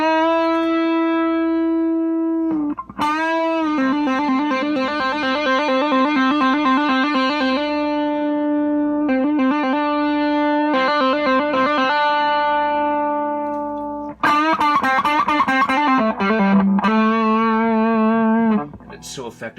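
Electric guitar played through a TFA Effects Sound Cannon distortion pedal, loud sustained chords and notes with a gritty, saturated tone and vibrato, changing every few seconds with short gaps.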